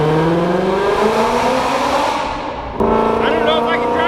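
A supercharged Ford Shelby GT350 roars inside a tunnel, its engine note climbing and falling in loud sustained revs with echoing overtones, a voice briefly heard over it.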